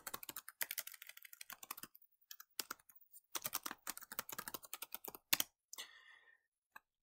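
Keys clatter in irregular bursts of quick typing on a computer keyboard, with short pauses between runs and a few louder isolated clicks, fairly close and alone.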